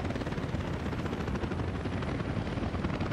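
Steady, dense rotor roar of helicopters in the city-building game Workers and Resources, a continuous broadband whir holding at even loudness throughout with no talking.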